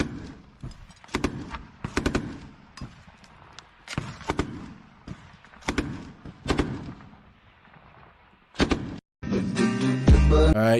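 Ukrainian soldiers fire rifles in war footage: a string of sharp, loud gunshots spaced irregularly, some in quick pairs, with a denser burst of noise near the end.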